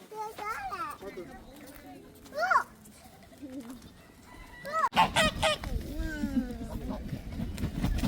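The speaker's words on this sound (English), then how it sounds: "So the big white birds that are there by the swimming pool, those are Sebastopol geese." Sebastopol geese honk repeatedly in loud, nasal bursts by a swimming pool, some close and some farther off, with other birds calling in an outdoor setting.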